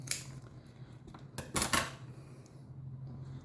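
A money plant (pothos) stem is cut, heard as a few crisp, sharp snips close by, two of them in quick succession, over a faint steady hum in a quiet room.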